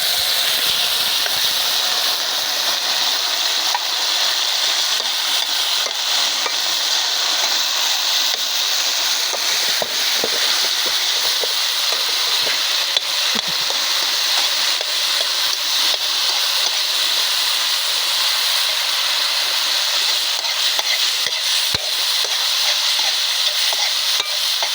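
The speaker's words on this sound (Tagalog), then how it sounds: "Ito na ilunod ang sardinas." Canned sardines with banana heart sizzle steadily in a hot pan, a constant loud hissing fry with faint stirring scrapes throughout and no voices.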